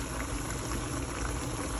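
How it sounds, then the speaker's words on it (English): Thick spaghetti sauce poured from a jar onto cooked ground beef in a pan, a steady, continuous wet gloopy sizzle and bubbling close by, with no talk. "So right now I'm pouring in my spaghetti sauce."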